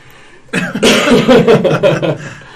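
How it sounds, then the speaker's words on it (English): A close, loud burst of rough coughing, several hacks running together over about two seconds with no talking. "I've got a cough."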